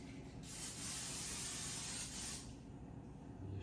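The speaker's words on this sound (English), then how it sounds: "I'm just going to spray the Power XL" Cooking spray hisses for about two seconds in one steady close burst into a Power XL air fryer basket, before the sound fades back into a quiet room.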